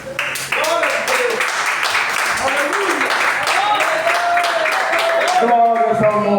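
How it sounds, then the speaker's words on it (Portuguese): A church congregation claps hands loudly and steadily throughout, with some singing or voices mixed in under the sustained applause. "Irmão, desocupe as palmas bem forte para Jesus."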